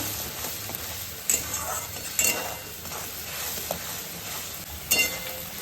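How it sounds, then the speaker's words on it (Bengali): Spice paste of Kashmiri chilli and black pepper being stirred in a pan, a soft steady sizzle broken by several sharp spatula scrapes and clinks against the metal, close up with no talking. "কাশ্মীরি লঙ্কা, একটু গোলমরিচ, পেস্টটা ভালো করে নাড়াচাড়া করবো।"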